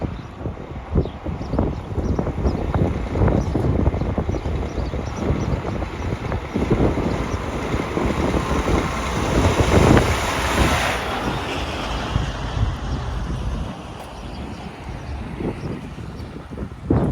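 Strong wind buffets the microphone outdoors at a trucking show, a loud continuous roar with gusty surges that swells near the middle and eases off toward the end, with no talking.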